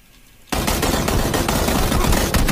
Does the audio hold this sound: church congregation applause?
no